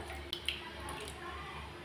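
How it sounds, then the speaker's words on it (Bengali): Lightly fried mung dal goes into lukewarm water in a saucepan, giving a couple of soft, quick squishy splashes over a low, steady background hum. "হালকা গরম জলে আমি ডালটা এখন ছেড়ে দিচ্ছি।"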